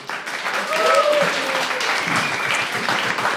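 Audience applause fills the whole stretch, a dense steady clatter of many hands clapping at close range, with a few voices and whoops mixed in.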